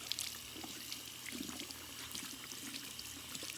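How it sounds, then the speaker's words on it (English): Faint running water trickles and splashes softly from a tap into a sink, wetting a makeup sponge, quiet and continuous. "what I do is I wet my beauty blender"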